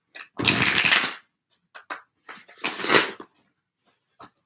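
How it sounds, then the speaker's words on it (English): A deck of tarot cards is shuffled in two main riffling bursts, each about half a second long, followed by scattered soft card taps and slides, close up and quiet between bursts. "Let me just shuffle this deck."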